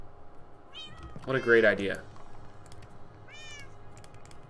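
A Minecraft cat meows twice, short high mews a few seconds apart, with someone talking in between over soft keyboard clicks.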